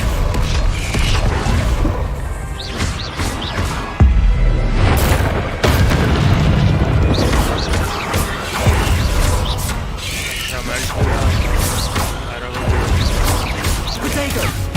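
A Depulso spell fires in the video game Hogwarts Legacy amid other combat spells: loud repeated booms, crashes and thwacks, with whooshing blasts layered over dense game sound.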